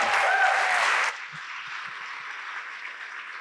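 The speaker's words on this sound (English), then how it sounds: "Give a round of applause." An audience breaks into loud applause at a live event, the dense clapping lasting about a second before cutting off abruptly into a quieter, steady background.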